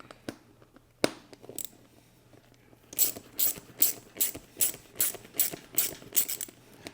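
Small metal bolt and nylock nut on a motorcycle saddlebag puck mount being snugged with a ratchet and Phillips screwdriver: an early sharp click, then about nine evenly spaced ratcheting bursts, close and clear.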